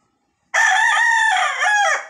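A White Kelso fighting rooster crows once, loud and close, with a long drawn-out call after a moment of silence that tapers off at the end.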